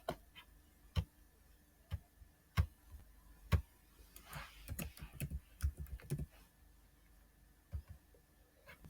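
Computer keyboard keys typing answer text into an e-learning quiz, tapped in sparse isolated clicks at first, then a quicker cluster of keystrokes, then a few scattered taps, close and fairly quiet.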